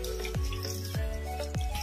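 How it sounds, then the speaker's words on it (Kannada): Water goes into a thick leftover-rice bonda batter with three evenly spaced, resonant drips or plops falling in a regular rhythm, close and fairly quiet, with no talking. "ಹಿಟ್ಟು ಗಟ್ಟಿಯಾಗಿದೆ, ಸ್ವಲ್ಪ ನೀರು ಹಾಕ್ತಿದ್ದೀನಿ"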